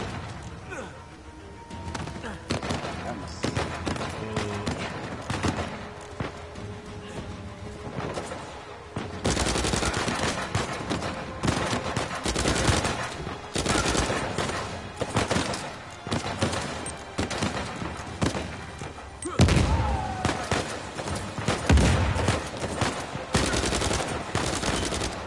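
Enemy gunfire crackles in the video game Uncharted 4, with bursts of rapid automatic shots and heavy impacts that keep returning in waves over a dense, loud combat backdrop.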